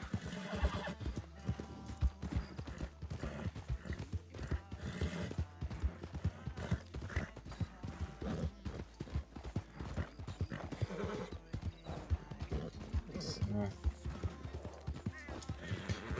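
Horse hooves gallop in a video game, a loud, steady clip-clop that runs without pause, with an occasional whinny on top.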